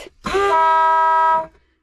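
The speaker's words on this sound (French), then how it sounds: "Cette petite manette là, que t'aimes beaucoup, Klaxon. son tutut." A 4x4 camper truck's horn gives one steady, loud honk of about a second and a quarter, close and alone with no talk over it.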